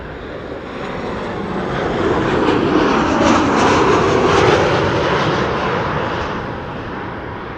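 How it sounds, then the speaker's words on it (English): A KLM airliner arriving from Dublin passes low on approach to Amsterdam Schiphol, its engine roar swelling to a loud peak and then fading away, with no voices. "KLM flight 1136 arriving from Dublin, Ireland"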